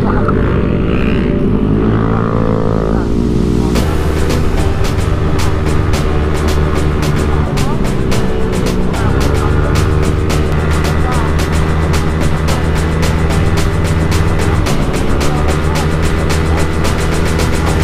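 A motorcycle engine runs steadily while riding through mountain country near Infanta, Quezon, loud and continuous with wind, and people shout and talk over it.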